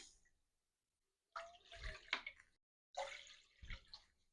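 Two short bursts of water pouring from a cup, splashing into a pot, separated by a pause of silence, quiet and close, while making Chettinad rava puttu.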